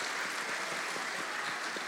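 An audience claps steadily for a short burst, a dense even patter of many hands with no voices over it.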